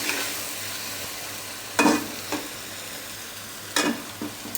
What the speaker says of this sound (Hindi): 5 मिनट हो चुके हैं मसालों को भूनते हुए। अच्छी तरह से चम्मच हिला देंगे।